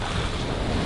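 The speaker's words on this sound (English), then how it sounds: "Those waves are big." Big ocean waves rush and hiss around a sailing boat off Maupiha'a in French Polynesia, a dense, loud wash of surf mixed with wind buffeting the microphone for a brief moment.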